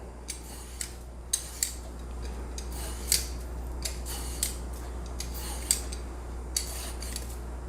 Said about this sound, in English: Once we cut off the ends of the squash, we're going to peel them.